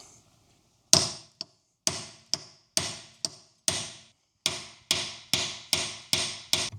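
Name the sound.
hammering on wheel nut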